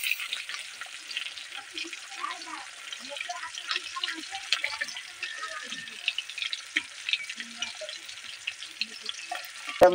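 Magur fish fries steadily in hot oil, a dense continuous sizzle with soft scraping and stirring clicks throughout, close and moderately loud.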